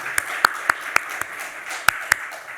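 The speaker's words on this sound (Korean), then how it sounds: "우리 박수로 환영하겠습니다." Scattered claps from a church congregation welcoming visiting guests during a Sunday worship service, a handful of sharp separate hand claps spread irregularly over a quiet room rather than full applause.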